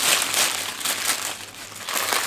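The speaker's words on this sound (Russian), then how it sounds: "Я беру свой любимый нож, разрезаю пакетик." A plastic package is cut open with a knife beside an outdoor tabletop oven while making pizza, giving steady close crinkling and crumpling of thin wrapper for a couple of seconds, alone without speech.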